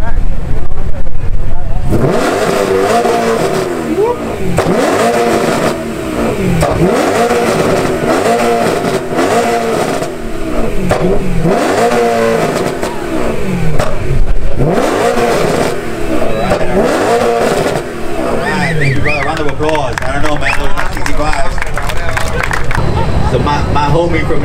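BMW car with its exhaust valve open, revved repeatedly in rhythmic loud bursts that rise and drop close by, a raspy rumbling roar with voices and background crowd noise throughout.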